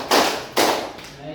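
A class of students clapping in unison in a classroom, with two crisp, loud group claps about half a second apart and a faint start of another at the very end.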